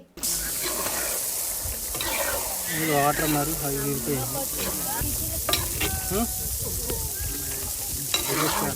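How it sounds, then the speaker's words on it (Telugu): Chicken frying in a pan with salt and chili powder while it is stirred, a steady loud sizzle with scraping stir strokes throughout, and a voice talking over it. "ఇప్పుడైతే ఉప్పు కారం అన్నీ వేసి ఈ ఫ్రై అయితే చేస్తున్నారు"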